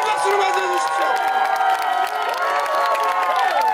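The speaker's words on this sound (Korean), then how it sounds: "큰 박수로 맞아주십시오" A crowd at an outdoor political campaign rally in Songdo, Incheon cheers and applauds loudly, with high shouts, whoops and clapping blending into a dense, continuous roar throughout.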